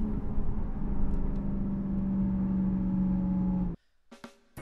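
Steady car engine hum with a sustained tone through a smooth manual gear shift, cutting off sharply near the end and followed by a couple of faint clicks.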